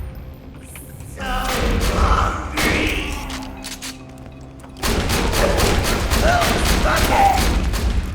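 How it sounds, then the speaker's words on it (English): Shotgun fire and explosive combat in Borderlands 2, heavy booming blasts and thuds, then a dense rapid burst of gunfire from the middle of the clip onward, loud with game effects underneath. "See if I can take Roof out with my shotgun without him dying from fire."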